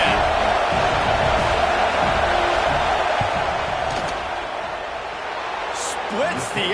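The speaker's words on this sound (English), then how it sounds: "This crowd trying to do its part to get inside the kicker's head." Stadium crowd noise in a football video game during a field goal attempt, a steady loud roar running throughout beneath a commentator's voice.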